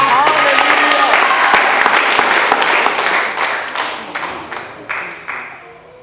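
A church congregation bursts into dense clapping that thins into scattered individual claps over about six seconds, with some voices mixed in.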